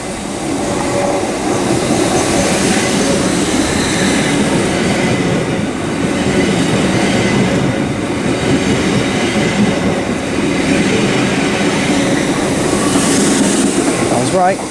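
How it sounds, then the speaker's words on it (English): A Great Western Railway Class 802 passenger train passes close by at Reading West, its steady loud rumble and rolling wheel noise filling the whole stretch without letup, swelling slightly near the end. "next train to pass through is going to be a Great Western Railway service from Bedwyn to London Paddington"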